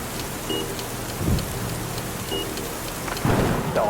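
Torrential rain drums on a Citroen Ami small electric car in Nice, France, a dense, loud, steady downpour heard from inside, with thunder rumbling twice through it.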